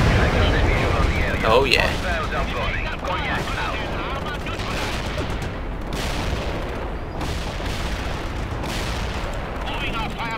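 Gunfire and artillery rumble through a battle in the real-time strategy game World in Conflict, a steady loud barrage with repeated sharp bursts, heard under brief talk.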